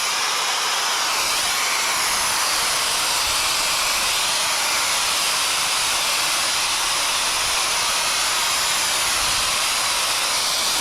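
A Vogma V40 portable motorcycle dryer blows air in a loud, constant, high-pitched whooshing hiss that holds steady from start to finish, very close and without talking.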